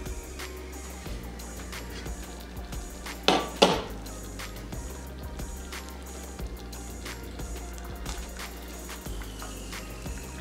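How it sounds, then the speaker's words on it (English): Spoonfuls of dough for chicken and dumplings are dropped into a pot, with a pair of sharp metallic clinks of spoon against the pot rim over low kitchen background noise, and no talking. "I'm going to take some spoons and go ahead and dump them into the pot"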